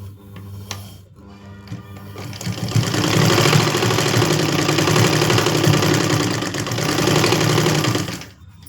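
A sewing machine runs steadily, stitching a folded fabric gap to the outer layer while lengthening a long skirt, its loud rapid mechanical chatter continuous for several seconds after a brief pause, no voices over it.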